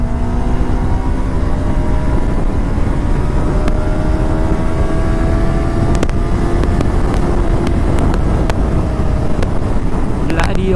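Motorcycle on a highway ride accelerating through its gears, engine pitch rising steadily under heavy, constant wind rush, with a few sharp clicks near the end.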